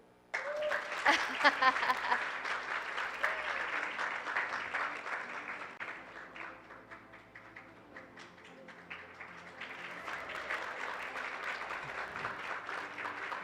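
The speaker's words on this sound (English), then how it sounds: "You guys can keep clapping." An audience at a youth environmental speaking competition finals claps for prize winners, a full round of applause that swells, eases off in the middle, then picks up again, with occasional voices underneath.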